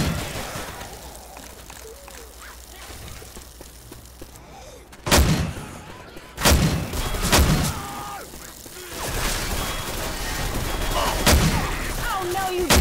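Gunfire in the Left 4 Dead 2 zombie shooter, with sharp loud bursts around the middle and more shots later over a busy background of game noise and chatter.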